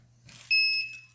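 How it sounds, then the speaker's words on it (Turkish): Two quick electronic beeps from a buzzer in an RF remote-controlled system, high-pitched and clean, over a faint steady hum. "Buzzer'ımız iki kere ötüyor"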